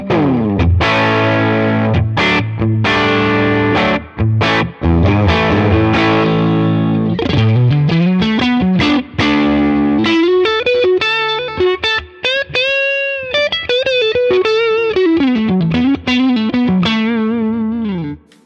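Electric guitar played through a Tone King Imperial neural amp plugin, distorted with a touch of chorus, moving from chugging chords into sustained single-note lines and bends, loud and continuous with brief gaps, no talking.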